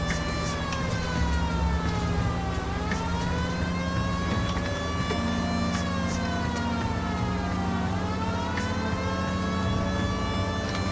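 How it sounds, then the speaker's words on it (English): A police car siren wails on full blast in the video game L.A. Noire, its tone sweeping up and down in long, loud cycles over a constant engine rumble, with no one talking. "siren on full blast"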